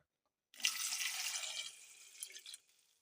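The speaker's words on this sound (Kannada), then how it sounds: "ನೀರು ಹಾಕ್ತೇನೆ ನೋಡ್ರಿ" Water pours from a tap into a cooking pot in a home kitchen, a bright splashing stream that starts abruptly, runs for about two seconds, then tapers to a few drips, close and alone.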